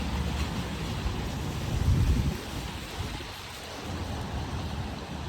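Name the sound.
rain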